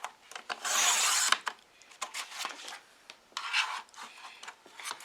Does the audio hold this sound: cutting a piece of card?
yes